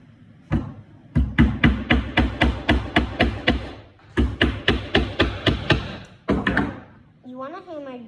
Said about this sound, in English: You want to hammer just enough